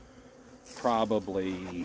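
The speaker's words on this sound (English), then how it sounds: "The bees are angry, understandably so." Angry honey bees buzz at a hive, a tonal drone that rises suddenly and stays loud and close, wavering in pitch as bees fly near.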